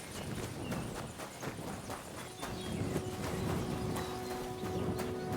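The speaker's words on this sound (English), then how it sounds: "Look at this horse." Horse hooves clip-clop steadily in Kingdom Come Deliverance 2, a rhythmic stream of hoof falls close by with a brief whinny, over a low ambient background and no talk.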